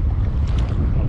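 Steady, loud wind buffeting the microphone with a low rumble, like a gusty open-air setting near water, no voices.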